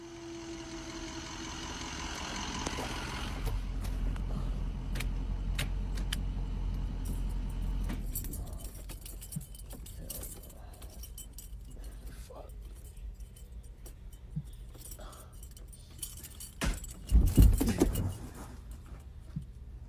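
Keys jangle beside an idling ambulance, with a low engine rumble under people talking, then a louder metallic rattle and clatter near the end.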